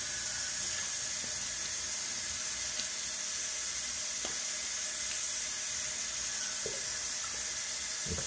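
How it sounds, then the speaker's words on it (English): Cold water runs steadily from a tap while alum is rinsed off during a shave, a continuous soft hiss and splash with a few faint clicks. "Rinse the alum off."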